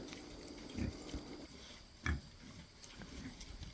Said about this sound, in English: Hi, pigs.